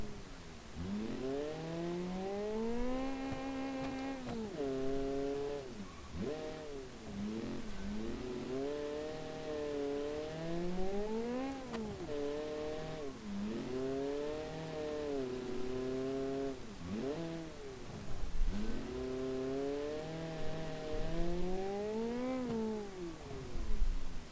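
Rally car engine in a racing video game, revving repeatedly up toward redline then dropping as it upshifts, a steady loud mid-pitched drone rising and falling in cycles with no talk.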